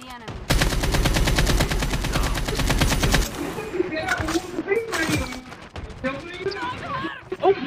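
Rapid bursts of automatic gunfire in a video game dominate the first few seconds, loud and dense, then give way to scattered shots and effects under excited talk.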